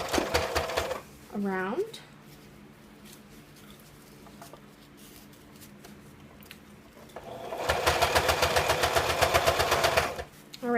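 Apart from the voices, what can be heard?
sewing machine stitching a PUL and fleece pocket cloth diaper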